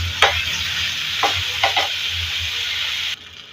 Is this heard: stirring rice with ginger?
yes